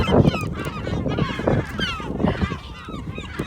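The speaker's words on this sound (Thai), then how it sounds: "เอาบรรยากาศนกมากินปลา ให้ดูแทนก็แล้วกันเนาะ" Geese honk repeatedly in a busy, overlapping flock as birds gather to eat fish at a frozen-lake ice fishing spot in Finland, the calls loud and close with constant rustling between them.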